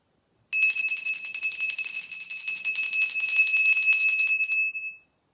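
A single bright metal bell rings continuously for about four seconds with a sustained shimmering tone, then cuts off, heard alone and close.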